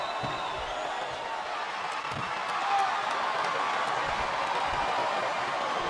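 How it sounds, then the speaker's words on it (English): Crowd noise from WWE SmackDown vs. Raw 2007 during a World Heavyweight Championship match between Finlay and Batista, a dense, steady roar from a capacity arena with faint scattered thumps. "This capacity crowd is what they're making known tonight."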